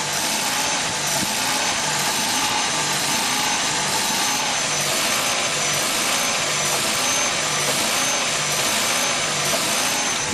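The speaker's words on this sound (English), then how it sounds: "There's a buzzing to go along with the revving." Ford Maverick Hybrid engine surging and revving with a steady buzzing, a loud continuous drone with wavering pitch that holds for the whole stretch, no talking.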